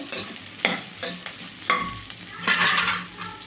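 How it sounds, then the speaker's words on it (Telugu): Beans and carrot pieces frying in a pan, stirred with a spatula: a steady sizzle with repeated scraping strokes at an uneven rhythm, close and fairly loud. "కట్ చేసి పెట్టుకున్న బీన్స్ ముక్కలండి, క్యారెట్ ముక్కలండి, మొత్తాన్ని అయితే వేసేసుకోవాలి. 1 సెకండ్ పాటు వేయించుకోవాలి."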